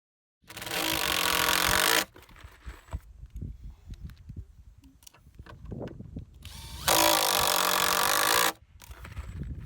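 A power drill drives screws into a Simpson Strong-Tie ABU66Z post base for a pavilion post, with two long loud whirring runs separated by clattering handling noises and quieter tool knocks.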